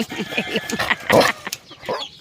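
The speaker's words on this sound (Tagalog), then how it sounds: "update naman po tayo dito sa pugaran ng manok" Chickens cluck busily at a crowded coop, overlapping calls coming quick and close, fairly loud with no one speaking.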